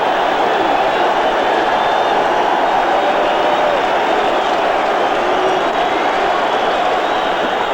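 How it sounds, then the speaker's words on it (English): The home crowd at a 1989 Opening Day baseball game between the Cardinals and Mets at New York makes a loud, dense, continuous roar of cheering that holds steady throughout. "Tremendous advantage when you got that home crowd cheering for you."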